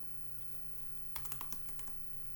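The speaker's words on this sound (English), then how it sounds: "So we're going to go first lock and type in Cottontail" A computer keyboard being typed on, a quiet stretch then a quick cluster of close, crisp key clicks in the second half, no voices.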